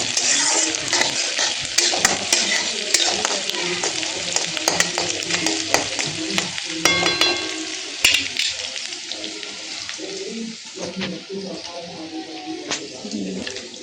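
Onion and garlic fry in a pan, a loud close sizzle crackling throughout, with utensils clinking and scraping against the pan as it is stirred.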